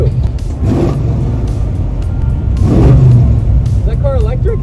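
A car engine revs up in two rising bursts, loud and close, with a steady idle rumble between them and people talking over it.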